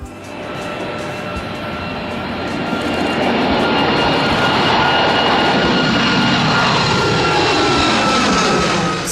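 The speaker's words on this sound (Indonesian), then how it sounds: "pesawat jet komersial Embraer E119-E2 yang mampir ke Jakarta" An Embraer E190-E2 commercial jet at Halim Perdana Kusuma airport in Jakarta roars steadily, its engine noise swelling louder over several seconds into a broad, sustained whine and rush with no voices.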